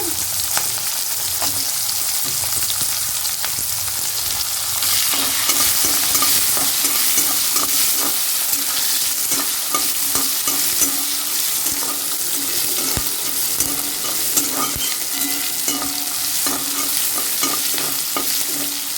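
Onions frying in a pan for a pumpkin dish, a constant close sizzle with frequent scraping and tapping of a stirring spoon throughout.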